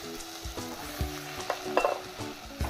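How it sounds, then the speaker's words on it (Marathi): Gram flour being stirred into cooked greens (chivai leaves) in a frying pan for zunka: scraping spoon strokes come at a steady rhythm over a soft sizzle, close and fairly quiet, with no talk. "आता आपल्याला त्यात अर्धा वाटी बेसन म्हणजे चणा डाळचं पीठ हे मिक्स करायचं आहे"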